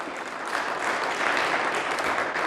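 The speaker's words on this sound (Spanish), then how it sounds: "Dale fuerte las palmas a nuestro Señor Jesucristo." A church congregation claps together in a steady, dense wash of applause that stays loud and even throughout. It sounds like a crowd in a room, with no clear speech over it.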